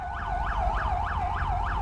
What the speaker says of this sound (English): Turn your damn siren.